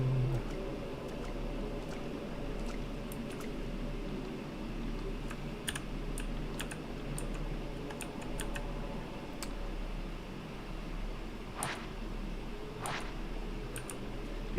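Continuous typing on a computer keyboard, a steady patter of soft key clicks with a few sharper, louder taps standing out, close and alone without talk.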